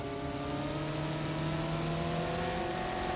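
A truck engine drones steadily under load while driving in the BeamNG game, a continuous loud hum with a slowly shifting pitch and no pauses.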